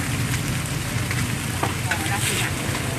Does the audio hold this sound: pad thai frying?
yes